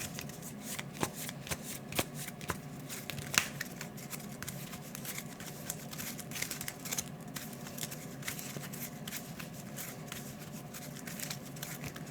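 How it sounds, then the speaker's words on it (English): Playing cards for the Marvel Champions card game are shuffled continuously and close up, a steady riffling patter of rapid crisp snaps that goes on without a break. "Okay, we'll have to shuffle."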